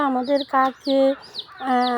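Young chicks being raised free-range peep and cheep in a close, quiet cluster of short repeated calls with brief pauses between them.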